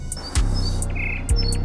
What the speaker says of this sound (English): The sun beamed and the birds chirped